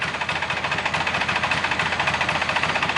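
A Polaris 400L engine runs at full throttle with a steady, rapid pulsing drone and a buzzy mechanical tone, loud and close throughout, no voices.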